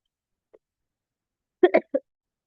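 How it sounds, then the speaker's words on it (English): A quick cluster of three short coughs close by, preceded by a tiny faint click, otherwise quiet. "I'm coughing."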